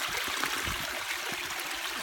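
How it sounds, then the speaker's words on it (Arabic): Spring water runs continuously out of a mountainside in Medenine, southern Tunisia, a soft steady trickle and splash heard up close with no voices. "دي على طول السنه يعني بتمشي ميه على طول طالعه من الجبل دي"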